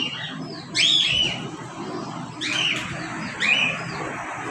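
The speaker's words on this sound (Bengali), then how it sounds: "এই তো আমাদের পাখি" A small bird chirps three times, short bright calls spaced a second or two apart, close by over a low household background.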